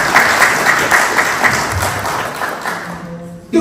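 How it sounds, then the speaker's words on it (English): Audience applause at a concert of Pakistani devotional music, a broad crowd clapping steadily and fairly close throughout, fading toward the end with a brief hum, then a sudden sharp sound right at the close. "So round of applause for all of them."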